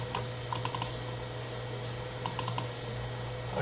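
Key presses on a computer keyboard come in short rapid bursts, near and clear over a steady electrical hum.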